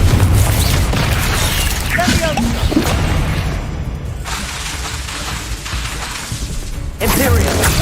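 Confringo fire blast spell from Hogwarts Legacy, heard as loud crashing, cracking and whooshing bursts with mechanical clatter, close and dense, while voices talk over parts of the combat.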